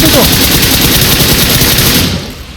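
Sustained machine gun fire in the battle royale game PUBG, a loud, dense, continuous stream of rapid shots close up that tapers off near the end.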